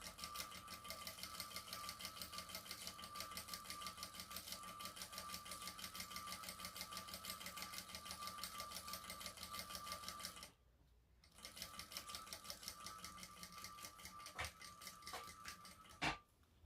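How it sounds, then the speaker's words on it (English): A sewing machine stitches across a fabric shoulder bag in one long, even, close run, then stops briefly and resumes, ending with a couple of sharp clicks. "we're going to stitch across down here"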